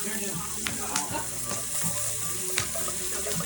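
Onions frying in a pot for Irish stew outdoors, a steady low sizzle throughout with a few faint clicks and knocks from stirring, fairly quiet and close with no voices.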